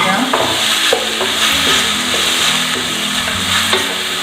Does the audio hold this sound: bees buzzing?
no